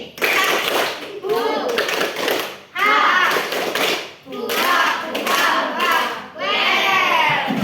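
Schoolchildren in a classroom clap out the 'tepuk semangat velocity' chant, producing repeated rhythmic clapping bursts interleaved with group chanting voices, loud and steady throughout.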